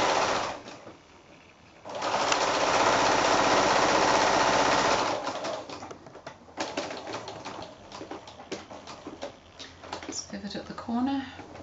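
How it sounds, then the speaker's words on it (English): Sewing machine stitching around a quilted flanged cushion at a quarter-inch seam, a steady rapid whirring run of about three seconds, then slower bursts of ticking stitches with pauses, close by, with a voice talking during parts of it. "I'm just going to sew all the way around with my 1/4 inch seam allowance"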